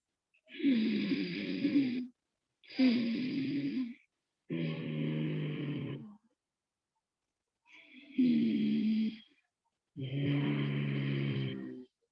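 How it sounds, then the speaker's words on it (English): A person makes five slow, deliberate snore-like throat breaths through a closed mouth during ujjayi pranayama breathing, each a few seconds long and separated by short silences. "just you have to keep your mouth closed and then snore"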